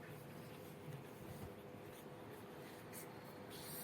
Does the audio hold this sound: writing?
yes